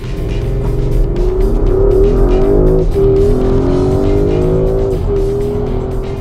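A Porsche Cayenne S V8 engine revs hard and loud, its pitch rising and falling through several gear changes with a deep, throaty rumble.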